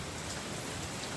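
Heavy rain pours down in a dense, steady hiss of drops drumming on surfaces, loud and unbroken for the whole short stretch with no voices.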